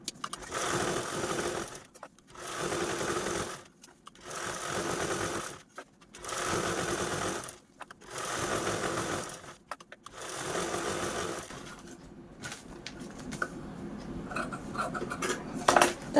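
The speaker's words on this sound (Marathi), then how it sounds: "यावरती पुन्हा आडव्या आडव्या टिपा देऊन घेऊ" A sewing machine stitches horizontal quilting lines through fabric layered over a lining and a sack backing, running in five steady bursts of about two seconds each with short pauses between them, then slowing to light handling noises near the end.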